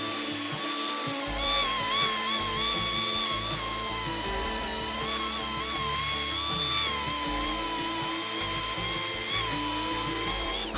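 A power grinder works hardened fiberglass on a Pathfinder bay boat hatch, giving a continuous high whine that rises and falls in pitch as the tool bears down. The sound is loud and close, with no voices.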